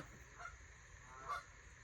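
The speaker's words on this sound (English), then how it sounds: "I think the geese are confirming." Geese honk a couple of times at a distance, two brief calls over a steady background hum, faint and with no one speaking.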